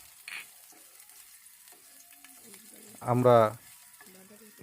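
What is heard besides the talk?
garlic cloves frying in soybean oil in a pan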